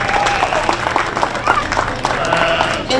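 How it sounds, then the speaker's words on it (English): A crowd at a junior livestock show applauds the young showmen, a steady, moderately loud spread of clapping with voices and background chatter mixed in. "Let's give them one more nice big round of applause."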